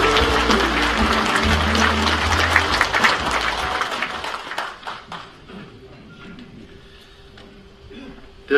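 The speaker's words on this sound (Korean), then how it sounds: "나오실 때 큰 박수로 환영해 주십시오" Applause from the audience at a veterans' police association anniversary ceremony at Sejong Center, welcoming a party leader to the podium; dense clapping for about four seconds, then fading to scattered claps and a quieter hall.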